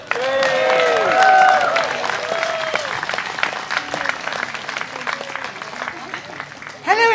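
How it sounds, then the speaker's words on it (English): An audience at a Jeremy Corbyn 40th-anniversary celebration gives Jenny Manson a round of applause: loud, sustained clapping from a crowd, steady for several seconds and tapering slightly, with a voice briefly audible at the start. "A round of applause for Jenny Manson."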